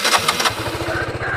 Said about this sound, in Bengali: ওয়ান ক্লিকে গাড়ি স্টার্ট